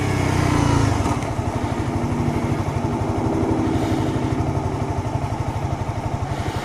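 A 2015 Honda CBR 300R ABS motorcycle engine runs steadily while riding and engine braking, giving a loud, close, rapid pulsing drone with no talk over it.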